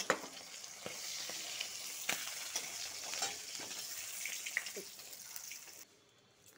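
Sea fish frying in oil in a pan makes a continuous bright sizzle with scattered crackles and pops, close and fairly quiet, ending abruptly in near silence.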